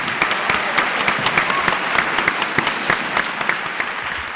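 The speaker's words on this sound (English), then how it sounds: "Let's welcome Mr. Lee Kien Truk with a warm applause" An audience at a concert in Los Angeles gives warm applause to welcome a speaker, with many hands clapping in a brisk, continuous patter, fairly close and loud, with no talking.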